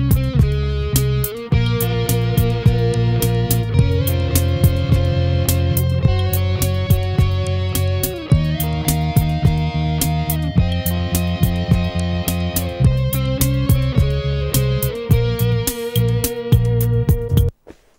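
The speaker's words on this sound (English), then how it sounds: "then you click in the convolution reverb" Deep, heavily reverberant bass notes played continuously through a convolution reverb impulse response, with a thick, smeared ambience and sustained low tones shifting in steps throughout.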